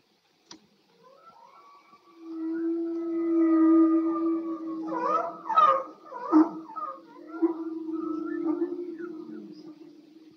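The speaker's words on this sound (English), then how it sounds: "The whale sounds you are now hearing contain wavelengths that can travel not just across one ocean basin, but around the entire world." Underwater whale calls: a long, sustained tonal moan under rising and falling warbling cries that overlap and pulse for several seconds, with no talking.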